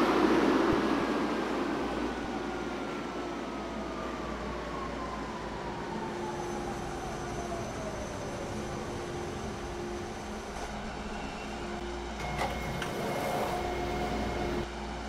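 A TTC H6 subway train riding on Line 2 Bloor-Danforth, with steady loud rail rumble and a falling whine as it runs, plus squealing wheel tones and clatter toward the end, with no talk.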